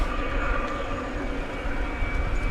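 A jet airliner approaches to land on runway 17 Center at DFW Airport at night, heard as a continuous loud engine roar and whine with no breaks, steady and fairly close throughout.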